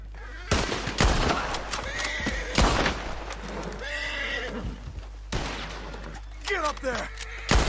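Horses neigh and whinny several times in Red Dead Redemption 2, loud and close, with hoof clatter and bursts of gunfire around them and people talking in between.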